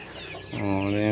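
A rooster gives a short, close cluck ending in a drawn-out tonal call, loud and alone.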